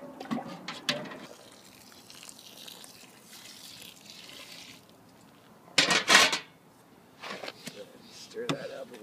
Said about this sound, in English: So I add it a little bit at a time, stirring it in so you evenly coat all the grain.